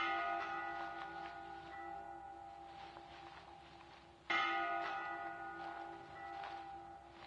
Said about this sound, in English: Oh, that's a bell.